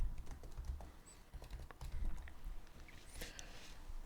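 Computer keyboard typing C# code, a quick, irregular run of soft key clicks close to the mic with brief pauses between bursts, fairly quiet and without talking.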